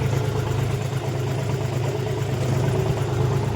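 A farm tractor engine runs steadily nearby, a continuous low rumbling drone with a mid-range mechanical hum, holding even loudness throughout with no talk over it.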